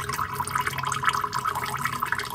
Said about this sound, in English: here's the fresh, clean oil that I pour through